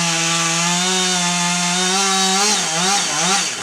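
A chainsaw cuts back into a tree trunk at a forestry demonstration, its engine a loud, steady buzzing drone close to the microphone that wavers and bogs in pitch as the chain bites into the wood, with no talking.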